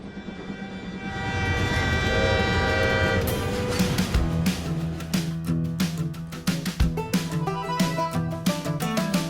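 A train sounds a long horn blast followed by a series of rhythmic short clacks and thumps of rolling wagons, loud and close, with no talk.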